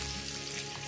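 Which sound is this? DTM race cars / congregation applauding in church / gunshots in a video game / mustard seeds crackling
mustard seeds crackling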